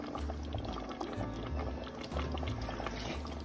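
Water pours steadily into a cooking pot of menudo, a continuous gurgling splash with a low bubbling undertone, close and fairly quiet.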